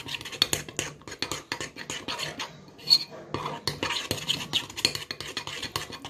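Chocolate chips and butter are stirred into a thick chocolate spread in a bowl. A utensil gives continuous close, soft scraping and clinking strokes in an uneven rhythm, without speech.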